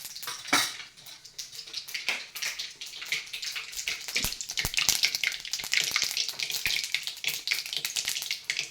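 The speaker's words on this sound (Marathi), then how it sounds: "काही मोहरी अशी मोहरी तडतडली पाहिजे" Mustard seeds popping and crackling in hot oil in a pan while tempering for an amla pickle, dense bright sizzle with sharp sporadic pops, close and loud, no talk.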